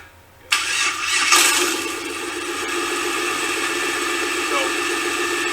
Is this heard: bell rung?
no